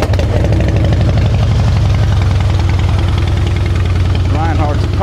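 A Harley-Davidson Softail Night Train FXSTB motorcycle with a Kuryakin Hypercharger intake idles with a loud, steady low rumble and dense rhythmic pulsing, while a voice talks over it throughout.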